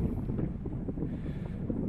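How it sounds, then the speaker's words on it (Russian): Steady, heavy wind buffeting the microphone in South Africa, a dense low rumble with gusty fluctuations throughout and no voices. "Дует ветрюга, я не уверен,"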